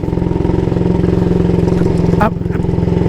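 A 1938 AJS Model 22 250cc single-cylinder motorcycle with a rigid rear frame being ridden, its engine thumping in a steady, loud, close rhythm throughout with a brief rattle near the end.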